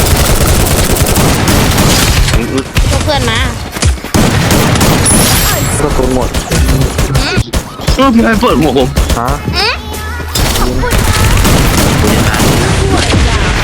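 Loud, dense bursts of gunfire and booming explosions from the video game Free Fire go on continuously while a voice talks excitedly in Thai over the noise.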